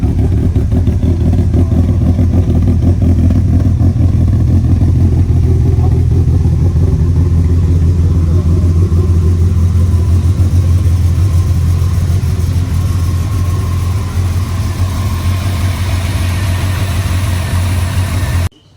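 A Subaru STI engine runs loud and close, a deep continuous rumble held for the whole stretch with slight rises in revs, then cut off abruptly at the end.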